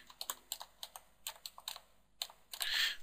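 Keys tapped on a computer keyboard while entering a layer name in Photoshop CS5: a quick run of a dozen or so distinct clicks, close and clear, ending in a brief louder rustling burst.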